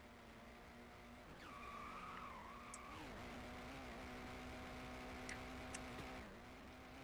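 Race car spinning out in turn one during an endurance race at Daytona in a racing video game: steady engine drone with a sharp tire squeal sweeping down, then more engine revving and small ticks throughout.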